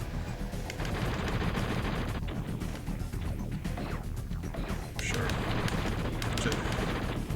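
Rapid strafing gunfire from the Transformers Beast Wars video game, dense bursts of shots and crashing impacts that run continuously at a steady loud level, with game noise and a voice mixed in.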